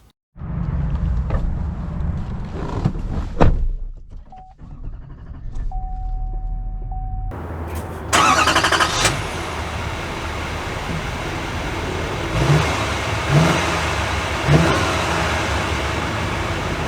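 A 2023 Chevy Silverado 3500 Z71 pickup truck starts up, its engine rumbling and settling to idle after a quiet cabin pause, then revving and pulling away with a steady drone as it drives off.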